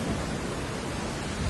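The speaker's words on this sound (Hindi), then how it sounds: "बारिश लगातार होते ही जा रही थी।" Heavy rain falls steadily in a dense, even roar with no breaks and no voices, loud and close throughout.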